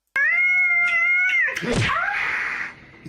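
A cat meows loudly and steadily for over a second, then lets out a rising, strained yowl that trails off.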